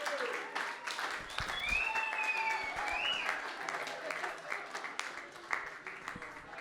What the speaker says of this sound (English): give our Queen a massive thanks, a clap